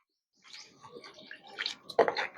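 Drumstick flowers being rinsed in water, with soft splashing and light trickling that builds into louder sloshing bursts near the end, close and without speech.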